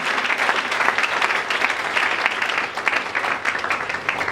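A church congregation claps loudly and continuously, a dense, steady wash of applause that holds at full strength for the whole stretch without breaks.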